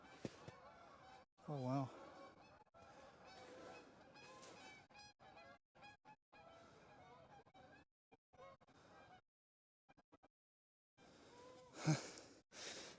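Geese honk outdoors while people scout land for deer and turkeys. Short bursts of honking come near the start and again near the end, over rustling and quiet talk from people close by.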